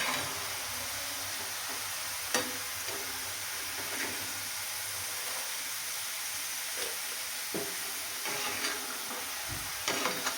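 Garlic frying in a pan until lightly browned for a homemade masala, a continuous bright sizzle with occasional soft clicks from stirring and no voices.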